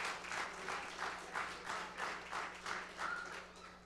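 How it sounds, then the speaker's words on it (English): A church congregation applauds, a soft and somewhat distant wash of clapping with a gently pulsing rhythm, no voices standing out. "Y'all can stand up and give them a round of applause now."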